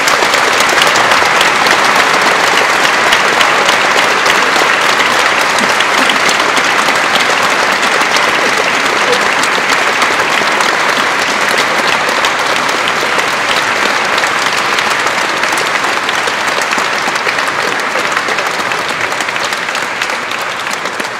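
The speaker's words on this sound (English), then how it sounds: "can I invite you to give a very big round of applause to our two speakers" Audience applause for two speakers at the end of a Durham Cathedral Institute lecture: steady, loud, dense clapping from a large hall crowd, sustained for the whole stretch and easing off slightly at the close.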